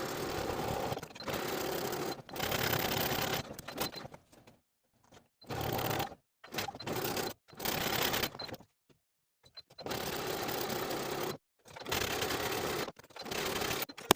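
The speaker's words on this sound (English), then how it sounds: "do that top stitching along the bodice side of the front bodice, just edge stitching close to that seam line" A sewing machine edge-stitches along the front bodice seam of a fleece sweater in several short, close bursts with abrupt stops and quiet gaps between runs.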